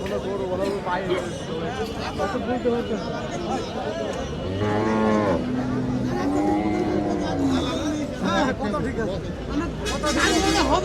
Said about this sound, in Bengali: বিশাল গরুর হাট